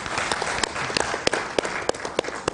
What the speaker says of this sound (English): I think you should give him a clap